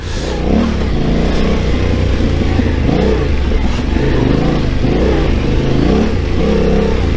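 A T7 adventure motorcycle revs hard and accelerates while being ridden, a loud, close engine roar that rises and falls in repeated surges from start to finish.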